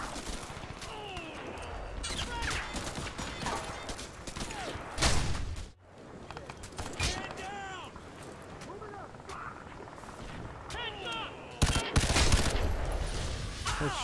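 Gunfire from a three-round burst weapon in Crysis 3 multiplayer on a full server, with repeated sharp bursts throughout amid game effects and a talking voice.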